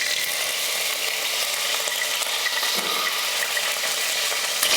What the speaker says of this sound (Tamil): இப்போ தாளிக்கிறதுக்கு கடுகு உளுந்து சேர்த்துக்கலாம்.